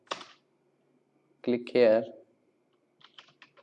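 Someone types HTML code on a computer keyboard: a short burst of light key clicks near the end, after someone speaks briefly.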